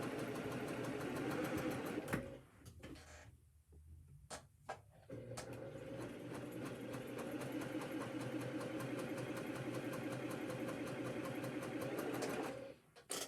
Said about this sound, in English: I'm going to go ahead and stitch the 1/4 inch seam for my